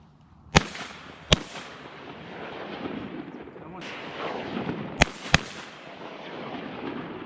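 Four sharp shotgun blasts ring out during a duck hunt, two early and two later in quick pairs, over a noisy background with faint voices.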